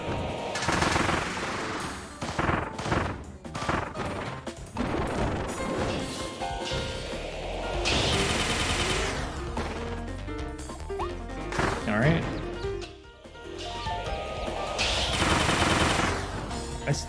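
The gun ability firing in Kirby and the Forgotten Land: dense, continuous volleys of rapid shots and impacts layered over loud game music and effects, with no pause in the action.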